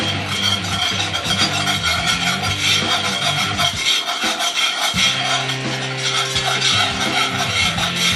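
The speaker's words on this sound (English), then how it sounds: "just keep stirring, it'll smooth back out" Spoon scraping and rubbing steadily around a pot of thickening milk sauce over a simmer, a continuous close rasping churn with no pauses.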